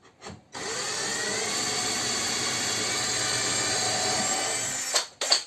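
A drill finishes boring a hole through wood in a woodworking workshop while building a spice niche, a steady whirring grind held for about four seconds close up, then stopping.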